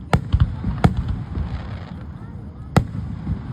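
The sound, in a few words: fireworks exploding at the side of a road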